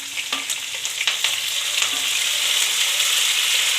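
Curry leaves hitting hot oil with plenty of green chillies, a sharp crackling burst at first that settles into a dense, loud, continuous sizzle close by.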